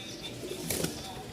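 A red European Lahori pigeon gives a brief, soft coo, faint and close, lasting only a moment.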